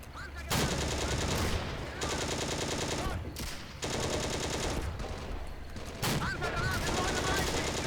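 Repeated bursts of tank gunfire from the Steel Fury tank combat game, set in Operation Barbarossa, loud and dense with rapid machine-gun-like rattling in several sustained volleys separated by brief pauses, no talking.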